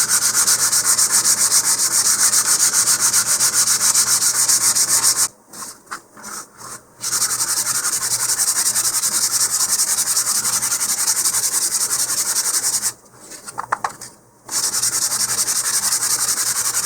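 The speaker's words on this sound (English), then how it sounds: "I've got some 220 here. And so we're just going to sand the faces." Wooden fin faces on a model rocket kit being sanded by hand with 220 grit sandpaper, a steady close rasping rub that runs continuously with two short pauses.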